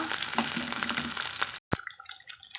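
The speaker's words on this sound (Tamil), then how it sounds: "இப்போ கருவேப்பிலையில கொஞ்சம் சேர்த்துக்கலாங்க கொடுங்க சேர்த்து நல்லா வதக்கி கொடுக்கலாங்க" Curry leaves frying in hot oil in a pan, a loud sustained sizzle and crackle that drops out abruptly for a moment, then returns softer and more sparse.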